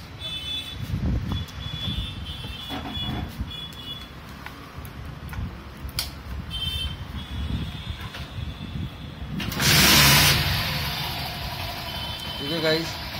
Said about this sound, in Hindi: तो अभी मैं गाड़ी आपको चालू करके दिखाता हूँ।